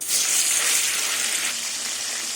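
Loud, steady hissing sizzle of fish frying in hot oil in a kadai, continuous and close, with no voices.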